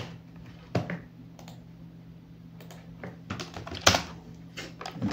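A password is typed on a computer keyboard in a quiet room: sparse, soft key clicks and taps, close by, irregularly spaced with a few sharper presses, over a faint hum.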